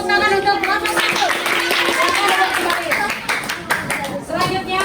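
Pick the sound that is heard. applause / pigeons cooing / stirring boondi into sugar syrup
applause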